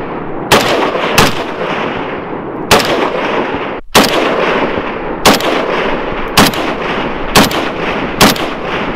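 Repeated sharp blasts, about eight over nine seconds, from an M67 grenade dropped by a drone onto a frozen lake, each a loud broadband crack over a steady noisy background, with no voices.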